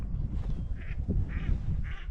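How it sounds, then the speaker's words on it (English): Ducks on the water give three short, nasal quacks in quick succession over a low, rumbling background; no one speaks. "there's still ducks in here"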